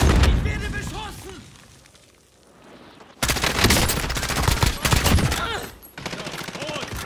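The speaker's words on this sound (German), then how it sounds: "Ich werde beschossen!" Heavy gunfire in Call of Duty Warzone (Modern Warfare), loud rapid automatic bursts and cracking shots up close with explosive pops, a lull, then another intense barrage while players talk over it.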